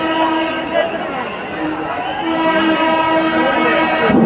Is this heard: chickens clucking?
no